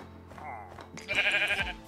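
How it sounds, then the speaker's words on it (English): Sheep bleating in the video game Minecraft, two short wavering bleats with the second louder and longer, close by over quiet game ambience. "Oh, I found a gray sheep."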